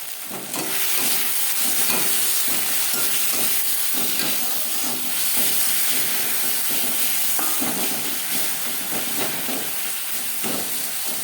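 Salt, turmeric and red chilli stir-fry with tomato in a pan for a Bengali tangra fish curry, a steady close hiss and sizzle broken by irregular scrapes and knocks of the stirring spoon.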